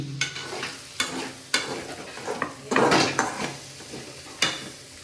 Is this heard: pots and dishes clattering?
yes